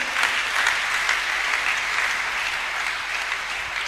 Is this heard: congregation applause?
yes